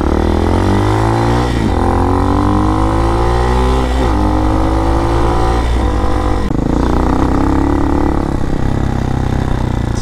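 A Honda Hawk DLX motorcycle engine with tuned EFI revs loud and close, pulling through the gears with rising pitch sweeps broken by brief dips at each shift while riding on the road.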